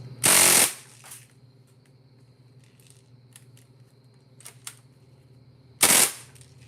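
A Craftsman CO2 air gun firing twice, each shot a sharp loud close burst of hiss, with faint mechanical clicks between them.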